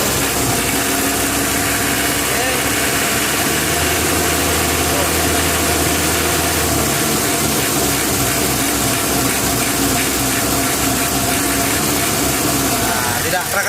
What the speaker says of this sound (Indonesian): Itu karena suara mesin itu halus ya, kedengarannya seperti biasa aja